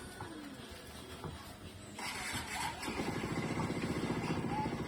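Motorcycle engine with a modified exhaust producing a deep, car-like rumble, starting quieter and then settling into a steady, loud, rapid throbbing idle close by.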